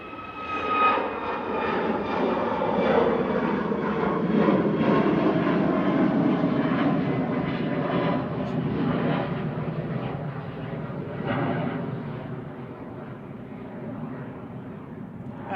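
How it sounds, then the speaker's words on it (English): A Ryanair Boeing 737 MAX 8-200 departs on its takeoff run, engines roaring loud and close with a rising then falling whine as it climbs away and fades slightly. "first Ryanair departing now in front of us"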